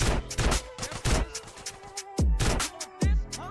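Repeated shotgun blasts in GTA San Andreas, a rapid flurry of sharp broadband cracks followed by three heavy, booming shots with ringing tails, loud and close with no talking.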